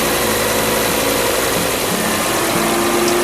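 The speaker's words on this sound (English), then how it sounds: "Start the engine, run it for a few minutes," A Volvo XC70 engine idles steadily after an oil change, a loud, even mechanical hum with constant vibration and no revving, heard up close with no voices.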